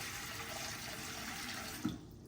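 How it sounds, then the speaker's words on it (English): Water running steadily into a deep frying pan while a Japanese hot pot is prepared, a soft, even splashing pour heard close and alone that cuts off near the end. "So prepare the pan, like kind of this, like a deep frying pan. Adding the water."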